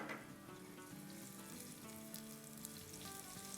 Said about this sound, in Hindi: इसे ब्राउन नहीं करेंगे, बस थोड़ा सौटे करेंगे।